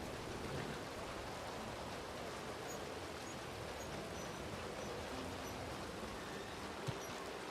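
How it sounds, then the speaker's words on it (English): Rain patters on a roof in the Red Dead Redemption 2 video game, a steady, even hiss of drops continuing without a break at moderate loudness. "this is another great sound effect. The rain on the roof"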